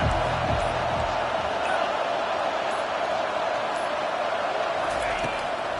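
A home crowd at a football game roars steadily and loudly as the defense faces third down, a continuous wash of noise under a commentator's talk.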